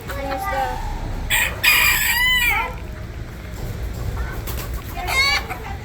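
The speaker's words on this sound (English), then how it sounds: "And over here is another phantom rooster here." A phantom rooster crows among the 4-H poultry at a county fair, several crows and clucks carrying over a busy barn hubbub, with people talking nearby.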